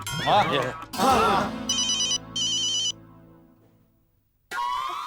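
An electronic doorbell rings in two bright buzzing bursts after people talk, then a voice speaks again briefly at the end.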